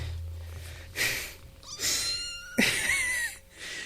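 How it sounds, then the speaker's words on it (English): A small kitten meows loudly and insistently several times in a row, high-pitched cries close by with short pauses between them. "Can you hear this kitten?"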